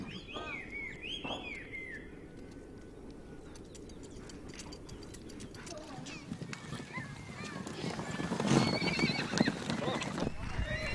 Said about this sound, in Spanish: Los ganaderos recogen las grandes manadas de caballos